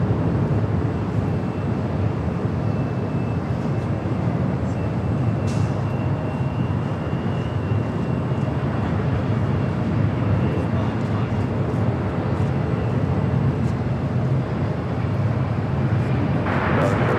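A cargo airplane takes off from the south side of LAX, its engines producing a steady, broad roar that holds throughout at moderate distance, with faint radio chatter in the background.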